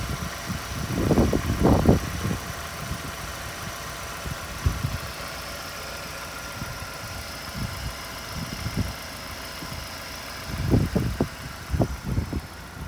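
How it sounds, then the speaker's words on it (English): A Vauxhall Omega engine idling steadily and evenly, with a low continuous rumble and a few louder revs or thumps at the start and near the end. "And the engine has got a super nice even idle."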